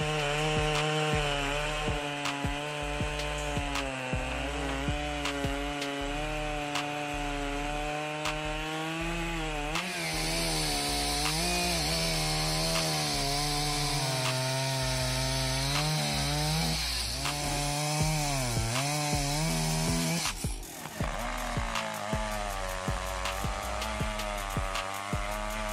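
A big chainsaw cuts into a tree, its engine droning steadily and loudly for the whole stretch, the pitch shifting as the bar bites into the wood, with a sharp change near the end.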